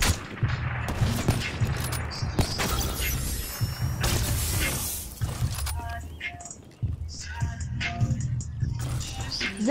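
Video game gunfire pops and clacks among mechanical clatter and ratcheting sounds, with a person talking excitedly over the action.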